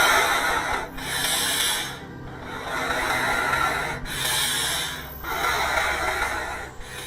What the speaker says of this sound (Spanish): escuché respiración.